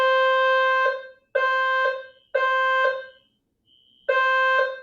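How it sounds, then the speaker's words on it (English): An alarm sounds in four loud, steady electronic tones, each lasting about a second, with short silent gaps between them and a fainter tone inside one gap. "I guess that's it. That's the alarm."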